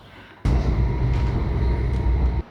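A train travelling through the Swiss countryside gives a steady, loud rumble that starts abruptly and holds constant for about two seconds before cutting off.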